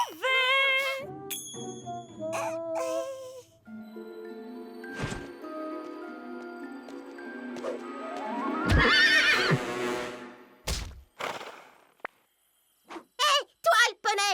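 A cartoon pony whinnies in several high, wavering calls, and hooves clip-clop in short bursts toward the end. Music and voices run throughout.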